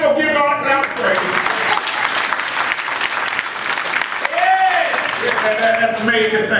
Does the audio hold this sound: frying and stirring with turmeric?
no